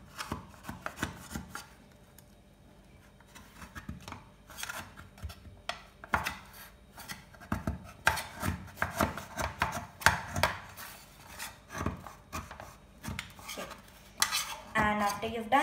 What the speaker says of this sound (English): You are just going to run a knife around the corners.